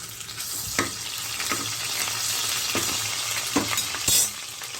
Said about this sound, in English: Now in a pan, I've added some oil and I've added some onions.